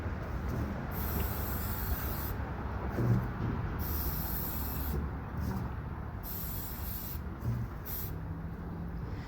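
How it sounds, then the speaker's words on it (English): Continuous hissing spray from an aerosol can of clear coat onto a mason jar, sustained in long bursts with brief pauses, close and fairly loud. "you're just gonna start giving it a light spray"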